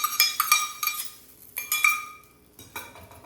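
Spoon or ladle clinking against a metal vessel while cooked rice is mixed with tempering for lemon rice, several bright metallic taps in irregular bursts, close and fairly quiet.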